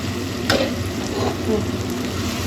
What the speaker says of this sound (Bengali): আলু ভাজা কেটে নিয়েছি, ভাজবো, আলুটা ভাজছি।